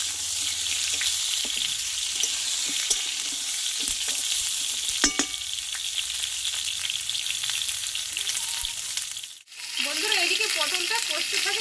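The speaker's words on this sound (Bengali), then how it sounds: "আমি এটা ছয় থেকে সাত মিনিট মতো ভালোভাবে পটলটাকে কষিয়ে নেবো" Pointed gourd (potol) sautés in a pan with a loud, continuous sizzle and stirring scrapes. The sound dips briefly, then a faint voice comes in near the end.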